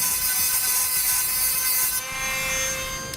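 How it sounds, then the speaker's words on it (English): An abrasive cutoff wheel grinds through a metal stud near the core support of a 2017 Jeep Cherokee, giving a continuous, close, high-pitched whine with a steady ringing tone and a brief dip partway through. "Now I'm going to be using a cutoff wheel, and I'm just going to cut it as close as possible to the core support."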